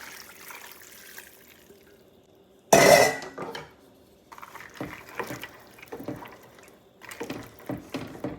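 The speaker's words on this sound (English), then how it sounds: "I'm gonna go in with some more water." Water pours briefly and loudly into a cooking pot of soaked peas, followed by softer clinks and clatters of a spoon and pot in a kitchen.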